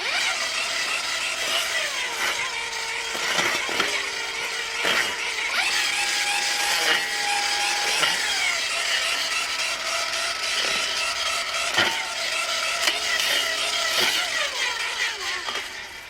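A Dewalt 60V Flexvolt cordless trimmer cutting through brush such as blackberries and briars, a loud continuous whine that rises and dips in pitch as the line strikes growth.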